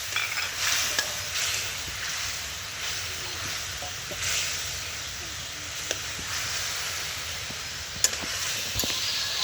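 A mixture of tomato, ginger, chilli and cumin sautés in a pan with a steady broad sizzle and occasional stirring clicks, close and continuous.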